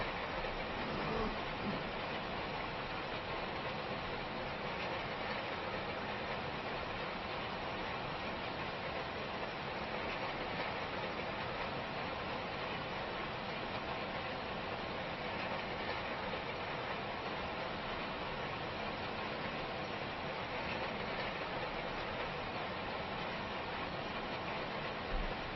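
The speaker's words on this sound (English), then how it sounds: "Nice little job for this tractor." A vintage tractor, on the farm since 1950, hums steadily while drilling a field in Farming Simulator 25, a continuous even engine drone at low volume with no breaks or voices.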